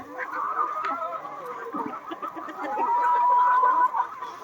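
Backyard chickens cluck and murmur in and around a coop near a house, with one drawn-out call rising over the softer clucks, fairly close and continuous.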